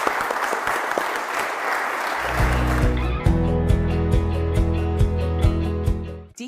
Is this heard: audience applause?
yes